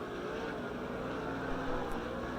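Sprint cars race around the dirt oval at Lernerville Speedway in Sarver, Pennsylvania, their engines blending into a constant, distant droning roar.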